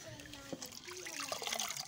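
Water sloshes and trickles close by as food for yoro yoro, a dish from Tamale, is washed again and again after three hours of soaking, with a steady wet splashing and a faint voice in the background.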